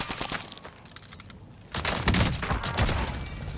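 Rapid bursts of AN-94 rifle fire in the video game Warzone, first lighter shots, then a denser, louder volley of close gunfire that continues to the end.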